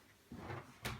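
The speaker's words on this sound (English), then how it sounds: "So next we want to put the doors on." Door of an old pine knockdown wardrobe fitted into place, giving a soft wooden knock and a brief sharper clack at close range with no talk.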